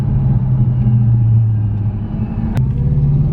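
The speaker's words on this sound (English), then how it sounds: "He's got his Mustang going. Must be booming. It is booming." A loud, deep Ford Mustang engine rumbles steadily up close, with a brief sharp click partway through.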